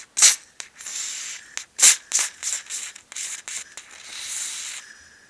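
Silicone lubricant is rubbed onto a seal from a Losi 5ive T RC parts kit, with close, dry rubbing and squeaky friction strokes in short irregular bursts and a longer smear near the end.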